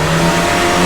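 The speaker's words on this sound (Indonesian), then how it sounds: "Jadi kayak suara mobil ngebut gitu." A speeding race car engine from a car racing game sound effect, a loud steady high-revving drone held throughout with no pauses.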